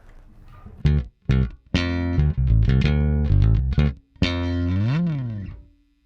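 A Fender Custom Shop '62 Jazz Bass in aged shell pink, played through an effects chain with distortion and chorus, with short phrases and a sustained bending note as the pickup selection changes, loud and close, no talking.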